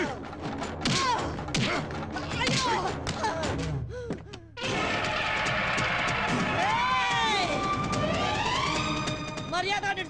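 Police shoes stomped hard on the ground in a Telugu comedy scene, a burst of loud, heavy thuds and smacks over the first few seconds, then shrill whistling and crowd noise with voices mixed in.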